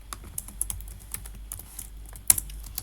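Irregular bursts of key taps on a computer keyboard while HTML code is written, close and fairly quiet, with brief pauses between clusters and one sharper clack near the end; nobody speaks.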